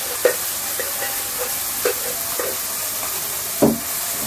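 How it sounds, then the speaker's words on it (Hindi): Dal (lentils) cooking in a pan is stirred at home, giving a soft continuous sizzle with a few light knocks and scrapes of the spoon against the pan. "अभी मिक्सिंग हो रही है। अब मम्मी दाल डाल ली है।"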